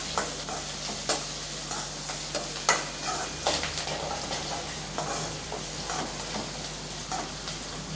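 Whole peeled garlic cloves sautéing in a pan for vatha kuzhambu, a steady close sizzle and hiss with intermittent scraping stirs of a spoon throughout, no voices.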